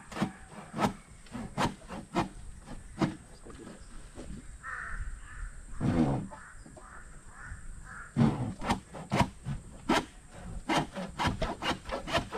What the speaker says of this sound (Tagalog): Kaya pala uwak ang tawag dyan kasi uwak uwak uwak sabi niya na.